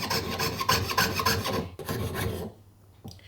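A jeweler's saw rasps through thick silver sheet for a handmade necklace in quick, steady back-and-forth strokes, close and clear, then stops.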